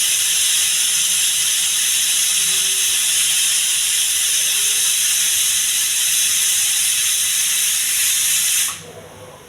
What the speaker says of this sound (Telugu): పప్పు విజిల్ వచ్చింది